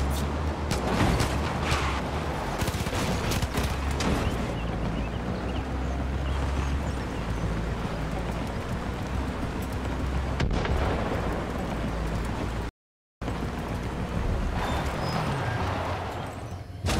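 Dense, continuous rumbling gunfire from the Far Cry 5 video game, a steady loud barrage of overlapping shots with a brief dropout near the end.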